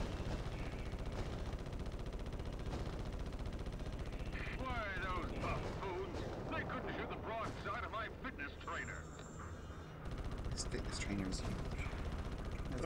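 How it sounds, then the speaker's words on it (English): Rocket explosions and rapid weapon fire in the Ratchet & Clank video game on Gemlik Station form a dense, continuous barrage of booms and crackling blasts, loud and steady throughout with a brief dip near the end. "How are those explosions not hurting you?"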